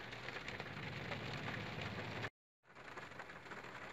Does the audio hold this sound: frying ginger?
no